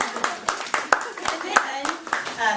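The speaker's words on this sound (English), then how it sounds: "Now, You all applauding?" A small audience at a farmers market talk claps in scattered, uneven bursts, the individual claps distinct and close, with some voices mixed in.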